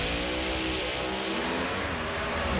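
Pro Mod drag racing cars at a Houston drag strip, roaring close and loud with a dense, sustained engine blast that holds steady throughout.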